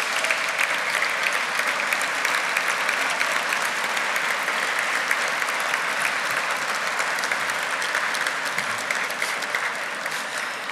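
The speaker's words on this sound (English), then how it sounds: "Please stand and give them all a round of applause." Sustained applause from a seated-to-standing gala audience honoring a board of directors, dense steady clapping filling the room for the full stretch without speech.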